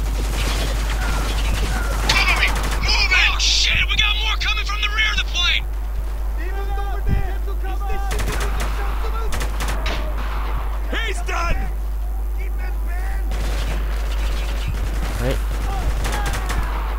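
Gunfire in the desert war video game Spec Ops: The Line, with repeated bursts and shots throughout alongside game effects, while someone talks over it.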